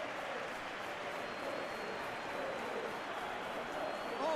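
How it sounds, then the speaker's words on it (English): Crowd applause and cheering from a PES 2021 football video game match between Chelsea and West Ham United, a steady broad wash of clapping from a stadium crowd that holds throughout, swelling slightly at the end. "at least the crowd are appreciative of his efforts"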